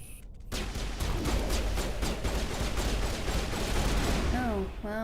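Sustained rapid gunfire from a firefight in the video game Mass Effect, a dense, loud stream of shots running the whole time without any voices.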